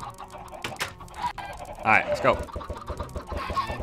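Chickens cluck in the video game Minecraft, a few short bird calls bunched near the middle under a player's casual talk.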